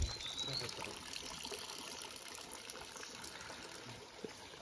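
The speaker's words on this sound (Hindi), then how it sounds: "यहाँ पर छोटा सा स्ट्रीम जहाँ से पानी कलेक्ट करते हैं यहाँ के लोग." A small hillside stream where villagers collect water, along an early-morning trek near Haflong, flows in a steady, close broadband rush with no clear breaks across the whole stretch.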